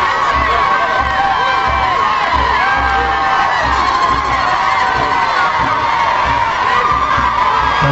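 A large outdoor crowd cheers and shouts continuously for the president of the Republic as he walks among them, a dense, loud roar of many voices with whoops and chanting throughout.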